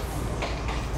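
A passenger train rolls along the seaside beach track at Kalutara, Sri Lanka, giving a steady low rumble of wheels with faint clicks, heard from inside the carriage.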